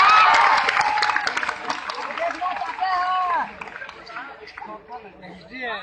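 At an Indian company event, a crowd applauds and cheers loudly, then the clapping fades while voices chatter over it.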